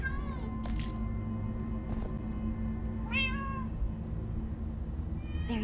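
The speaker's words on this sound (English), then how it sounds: "So many cats." Several cats meow in the Minecraft Story Mode video game, rising calls repeating every second or so over a steady game music and ambient bed, with a few brief clicks between them.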